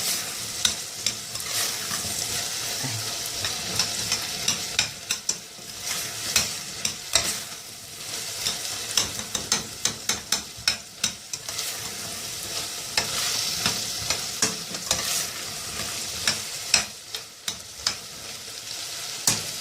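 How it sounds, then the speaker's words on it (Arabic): Fava beans being stirred with onion and tomato paste in a frying pan, a steady sizzle with frequent scraping and clinking stirs of the utensil against the pan, close and continuous for the whole stretch. "هنديها تقليبه كويس كده مع الفول قبل ما نضيف عصير الطماطم"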